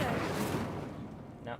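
The Incendio fire spell in Hogwarts Legacy bursts as a loud whooshing roar that fades over about a second, followed by a brief voice.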